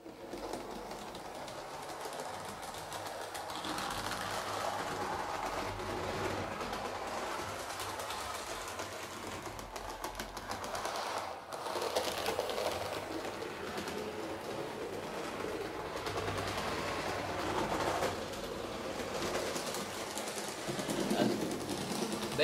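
Model ÖBB 1042 electric locomotive with a Zimo MX600 digital decoder running along a layout track: a faint, continuous mechanical whir and light rail clatter, low in level, with no talking.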